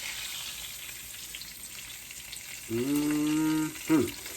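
Liver fries in hot grease in a pan with a constant bright sizzle and crackle, joined near the end by a brief voiced, hum-like tone.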